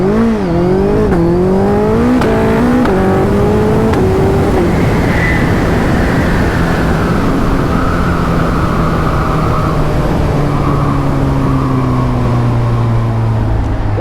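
A Yamaha R1 crossplane superbike accelerates hard through rising, shifting engine notes that climb in pitch between gear changes, then carries on at speed with loud, close exhaust roar and wind rush.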